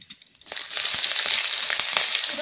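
Nigella seeds and green chili hit hot mustard-style fish frying oil with a sudden loud sizzle that settles into a steady, crackling hiss with small pops, preceded by a few faint clicks.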